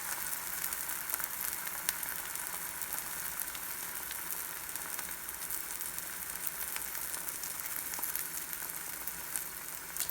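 Cheesy omelette frying in a pan after being flipped, a steady close sizzle and crackle of fat that holds evenly throughout with no talk.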